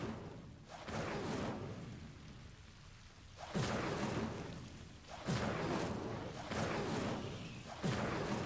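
Incendio fire spell cast in Hogwarts Legacy against Devil's Snare, a series of whooshing fiery bursts, each swelling then fading, repeated several times with a low roar beneath.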